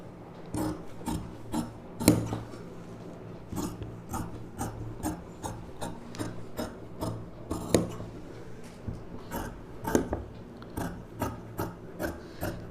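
Scissors cut through saree fabric for a frock piece, a rhythmic series of crisp snips with short gaps between them, close and fairly quiet with no voices.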